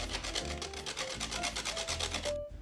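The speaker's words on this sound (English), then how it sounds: "grate about 2 medium carrots" Carrots are grated for a carrot cake, a rapid rhythmic rasping with regular strokes, close and quiet, stopping abruptly near the end.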